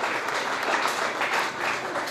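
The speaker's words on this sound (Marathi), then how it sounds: "त्यांच्यासाठी एकदा जोरदार सर्वांनी टाळ्या वाजवायच्या आहेत" Audience applause for a carrom world champion at a Maharashtra state junior carrom coaching camp, a dense steady clapping from many hands that fills the whole moment with no talking.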